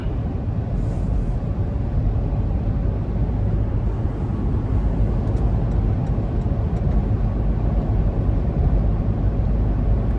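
A 2021 Toyota 4Runner Limited cruises on the highway at about 76 mph, with a constant deep road roar and wind rush holding steady throughout, no voices.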